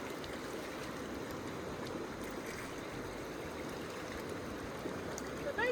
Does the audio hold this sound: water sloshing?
yes